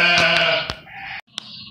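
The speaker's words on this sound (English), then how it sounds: "Little black sheep. How cute are they? This fluffy faced little sheep." A fluffy-faced little black sheep bleats once, loud and close, a wavering cry that breaks off, followed by a brief fainter call.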